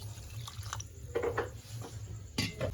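Water is poured into a cooking pot for a fresh fish curry, several short splashy bursts with gurgling drips and brief pauses between them, close and fairly quiet.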